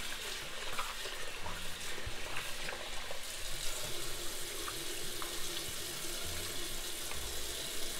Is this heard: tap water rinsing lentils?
yes